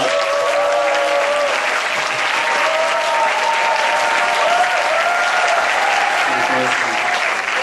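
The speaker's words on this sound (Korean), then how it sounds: "목사님 올라오실 텐데 우리가 큰 박수로 맞이하도록 하겠습니다" Church congregation at an evening service giving loud, sustained applause to welcome the pastor onto the stage, dense clapping filling the room steadily without pause.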